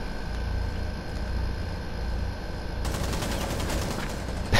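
Rainbow Six gunfire, a rapid automatic burst starting midway, sharp and close after a stretch of low game ambience, with a loud hit at the very end.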